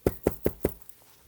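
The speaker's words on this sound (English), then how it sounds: "He knocked on the door." Four firm, evenly spaced knocks on a wooden door, close and alone, with a fainter trailing tap after a brief pause.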